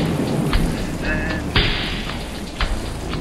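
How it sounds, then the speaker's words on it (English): Steady rain hisses close by, with a few louder thumps and a brief tone partway through, and a voice faintly under it. "Come on, Carolyn, it's raining!"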